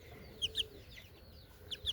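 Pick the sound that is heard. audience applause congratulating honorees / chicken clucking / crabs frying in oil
chicken clucking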